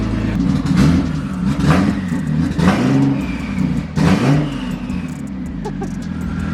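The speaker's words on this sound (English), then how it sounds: "The turbo spool's so loud." A turbocharged Nissan 350Z with a newly installed loud exhaust revs hard in repeated rising bursts, each climbing and falling back to a rough, rumbling idle, close and loud throughout.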